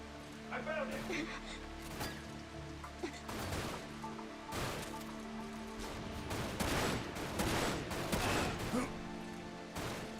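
Gunfire from the video game Dirge of Cerberus: Final Fantasy VII, repeated sharp shots and bursts with crashes, over a music bed and talk.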